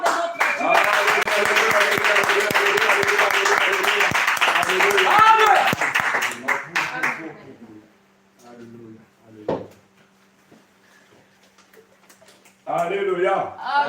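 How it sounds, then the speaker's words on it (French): A church congregation claps and cheers loudly with scattered shouts for several seconds, then the applause breaks off into brief quiet voices and a final short burst of cheering. "Vous acclamez pour la gloire de notre Dieu."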